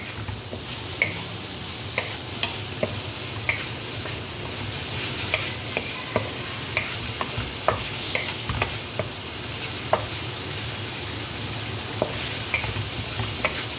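Vegetables are stirred into rice frying in a pan, a steady sizzle close by punctuated by regular sharp scrapes and taps of the utensil roughly every half second, with no voices.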